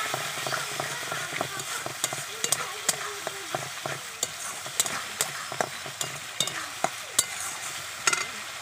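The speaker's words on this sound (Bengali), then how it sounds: "আমি এখন মশলাটা ভালো করে কষে নেব" Spice masala with turmeric and salt fries in a pan, a continuous hiss punctuated by regular, rhythmic clacks of a spatula stirring it throughout.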